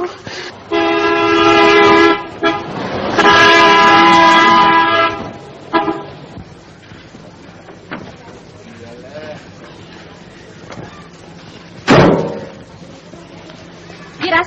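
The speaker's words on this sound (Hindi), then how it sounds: "हॉर्न पर हॉर्न बजाए जा रहे हैं, सुनाई नहीं देता तुम्हें?" A loud, sustained horn blares twice in quick succession, with people talking underneath and another sharp honk a few seconds later.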